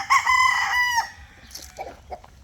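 A six-month-old gamecock stag of Kelso and Boston bloodlines crows once, loud and close, followed by a few softer clucks from other fowl nearby.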